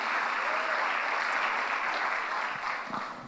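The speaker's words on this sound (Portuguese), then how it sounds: "Pode aplaudir o Senhor Jesus" A church congregation breaks into loud, continuous applause that holds steady and gradually fades in the final second.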